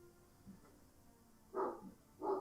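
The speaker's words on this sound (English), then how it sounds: "because the dogs are barking" A couple of short dog barks, the last two loudest and close together, set against a quiet low background hum.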